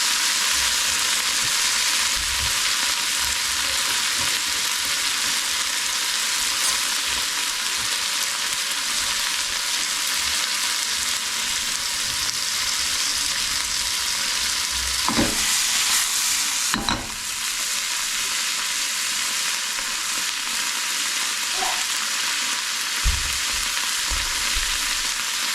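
Kimchi sizzles and fries loudly in butter in a pan, a steady dense crackle throughout with a few sharp scraping stirs of a utensil partway through, no voices.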